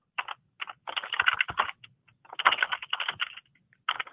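Fingers type on a computer keyboard in quick bursts of clicky keystrokes separated by short pauses, close and clear with no talking.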